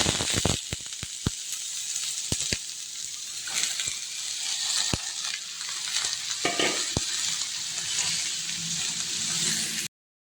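Sliced bitter gourd frying in hot oil with a steady, dense sizzle and hiss, along with sharp crackles and pops scattered over about ten seconds, no talking, ending abruptly.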